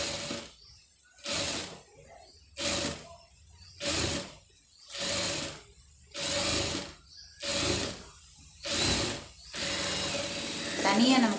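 A sewing machine stitching blouse lining whirs in about nine short, evenly spaced bursts with pauses between them, close and clear, while a voice talks in between.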